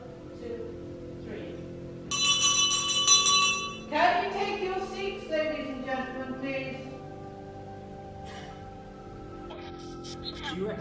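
A bell rings in an old theatre during a ghost investigation, a bright ringing burst followed by lingering tones, heard fairly close amid quiet room noise and a few soft voices.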